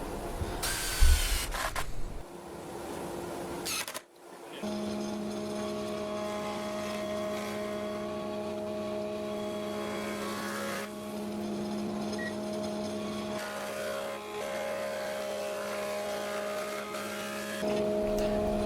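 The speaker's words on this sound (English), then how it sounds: "then we just fed that through the thicknesser to flatten off one side" Plywood feeding through a thicknesser planer, a steady whining machine drone with sustained tonal hum lasting many seconds after a brief clattering start, close and loud with no talking.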